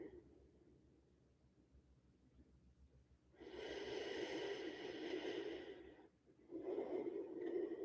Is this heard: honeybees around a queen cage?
no